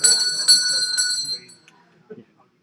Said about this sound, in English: Did you ask her to ring the bell?